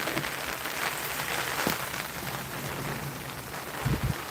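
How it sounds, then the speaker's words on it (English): Rain moves in from a big rain cloud outdoors in Irving, Texas, a steady broadband hiss of falling drops, fairly loud and continuous, with a couple of low thuds near the end. "The rain is slowly coming."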